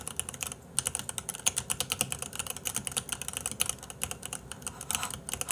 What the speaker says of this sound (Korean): 왜 키보드 소리 그렇게 좋아?